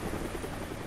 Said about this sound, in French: l'hélico, il s'arrête quand même